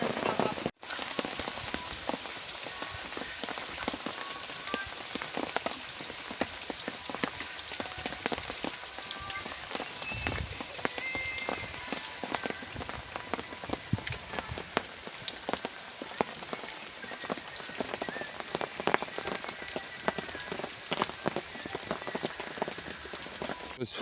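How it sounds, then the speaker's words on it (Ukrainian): Rain falling on surfaces outdoors, a dense steady patter of drops across the whole stretch, with faint distant voices now and then underneath. "Все, будемо працювати в той дощ."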